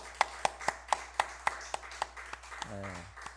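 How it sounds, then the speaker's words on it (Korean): Men in a Sunday church congregation clap for the women in a steady, quick run of sharp, distinct claps that thin out slightly, ending with a brief voiced tone. "우리 남자들은 여자를 위해서 격려의 박수 한번 합시다"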